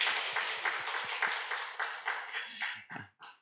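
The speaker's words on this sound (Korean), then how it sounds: "우리 서로 한번 격려하며 박수하겠습니다" A church congregation at an early-morning prayer service bursts into warm applause, dense clapping from many hands that fades out after a few seconds.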